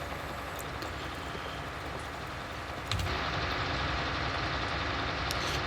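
A tractor engine idles steadily in Farming Simulator 19, a low, even rumble that jumps louder about halfway through as the sound shifts, with no talking.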